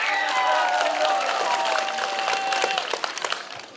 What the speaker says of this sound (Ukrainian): Оплески Михайлові!